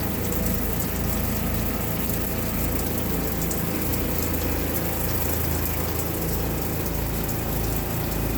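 Strong, steady rush of hot shower water at high pressure in an off-grid shower house, a loud close hiss with no breaks and no voices.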